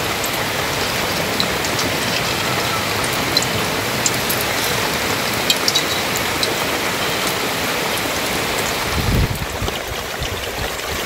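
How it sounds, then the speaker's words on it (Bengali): Heavy storm rain pours down steadily in a dense, unbroken hiss, with a brief low rumble or thump near the end. "প্রচুর ঝড় বৃষ্টি শুরু হয়েছে আমাদের।"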